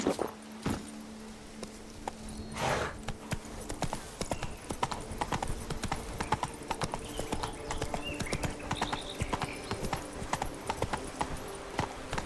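Roach the horse runs through the world of The Witcher 3, hooves clip-clopping in a steady rhythmic patter throughout, close and moderately loud over a faint ambient game background.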